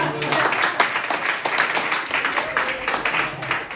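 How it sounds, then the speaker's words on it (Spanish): A church congregation claps rhythmically and loudly throughout a worship service, with voices mixed in beneath the steady, dense clapping. "Aplaudir de verdad."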